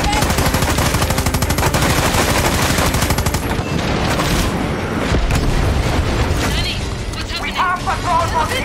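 In the Far Cry 6 video game, cannon fire and gunfire ring out on a boat: rapid bursts of automatic fire, then heavier booms and scattered shots, loud and close, with a voice talking over them.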